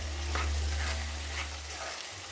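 A spoon stirring potato curry in a frying pan, scraping strokes repeating over a steady sizzle and a low hum, close and clear with no talking.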